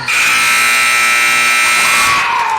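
A loud, continuous electronic buzzer blares steadily for a couple of seconds at the end of a quarter in a girls' high school basketball game, before tapering off.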